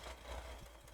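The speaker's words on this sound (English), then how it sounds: "Well, it's idling on its own now." A Chevrolet Corvair engine idles on its own in neutral, a low steady rumble with an even, slightly uneven pulse, fairly faint and continuous throughout with no talking.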